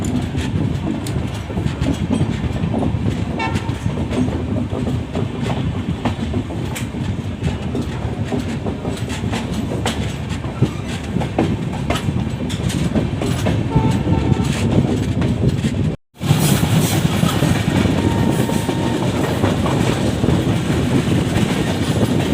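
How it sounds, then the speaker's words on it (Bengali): A sleeper-class passenger train running through North Bengal, with a loud, continuous rumble and rhythmic clatter of wheels on rails heard from inside the coach, briefly cutting out near the end before resuming. "এখন আমরা ওয়েটিং করছি কখন আমাদের ট্রেন ছাড়বে"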